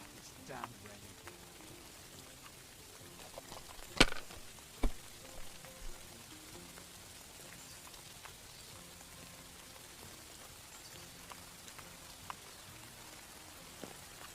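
Rain falls with a soft, even hiss in the video game Kingdom Come: Deliverance, broken early by a few louder knocks and thumps, then settling into quiet patter.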